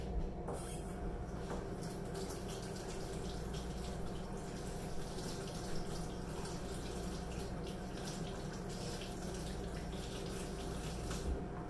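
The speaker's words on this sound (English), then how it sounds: "I'm going to rinse my hands off" Tap water runs steadily while someone rinses their hands after dressing a wild hare, a continuous close rushing hiss with no talk.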